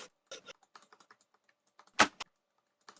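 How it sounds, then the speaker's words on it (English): Keystrokes from an insanely loud, heavy-duty mechanical computer keyboard clatter in scattered bursts, with a cluster of louder, harder key hits near the end. The typing is close and clear, with no talk over it. "Sorry for my insanely loud keyboard."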